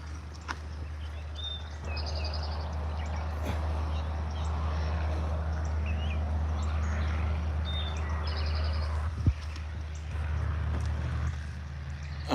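Occasional bird chirps and short calls sound faintly over a steady low rumble of distant traffic, with no talking.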